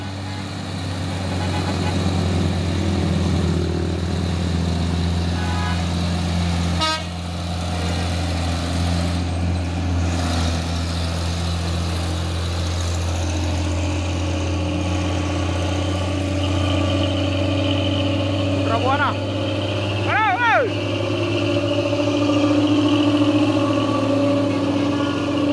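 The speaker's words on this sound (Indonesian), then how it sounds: "Dua unit truk tangki CPO pemain Hinolohan" Two CPO palm-oil tanker trucks labouring uphill on a road, a steady low engine drone running throughout with a couple of short horn-like tones near the end.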